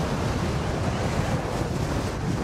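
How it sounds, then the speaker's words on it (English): Strong wind at Fort Myers Beach, heard while riding a Gotway MSX 100V electric unicycle, buffets the microphone in a loud, continuous roar with gusty surges and no voices. "But it is so freaking windy this way."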